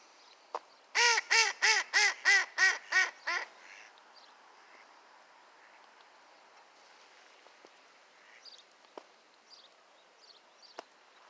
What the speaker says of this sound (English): Nice, beautiful ducks.